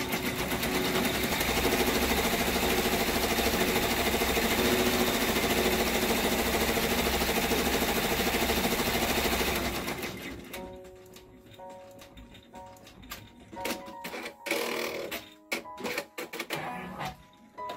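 An embroidery machine stitches a white outline around an in-the-hoop learning toy. A steady, rapid mechanical whirr and chatter runs for about ten seconds, then stops, leaving quiet handling clicks.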